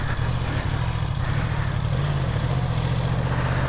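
A Yamaha R1 motorcycle engine runs steadily nearby, a continuous loud low rumble with a slight shift in tone midway and no talking.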